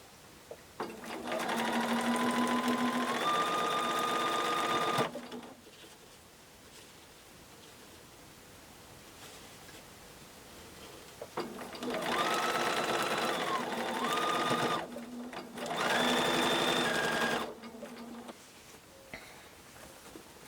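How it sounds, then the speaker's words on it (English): A sewing machine stitches together fabric pieces for a quilted friendship star block, running in three steady whirring bursts separated by quiet pauses, close and clear with no voices. "just take it to the sewing machine"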